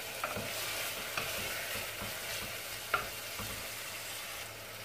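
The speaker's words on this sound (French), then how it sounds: "je fais bien revenir donc ma viande avec l'oignon jusqu'à bien la faire dorer" Meat and onion browning in a pan for a sweet Moroccan meat tajine, with a steady broadband sizzle and a few soft stirring scrapes and clinks, close and continuous with no talking.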